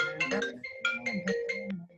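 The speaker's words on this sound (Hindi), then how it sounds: "फिर से हेलो फोन आया, फिर से फोन आया, कल के जैसा फिर से फोन आया।" A phone rings with a melodic electronic ringtone, loud and close, playing a run of bright tonal phrases that rise and fall over about two seconds, with no talk.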